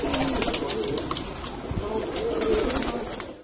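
Pigeons coo softly in Birmingham, home to competitive pigeon flying, with low rounded calls repeating under a busy ambient background and scattered higher bird chirps.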